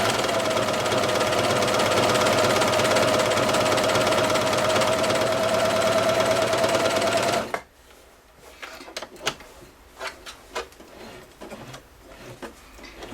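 A Celine cover stitch machine sews thin fabric at stitch length 3 with differential feed on N, a loud, fast, steady mechanical chatter that stops abruptly, followed by quieter clicks and handling.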